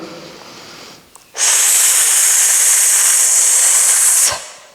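A single long, deep breath drawn in during a morning full-body exercise routine: a steady, loud, close airy rush lasting about three seconds after a brief quieter breath, with no talking.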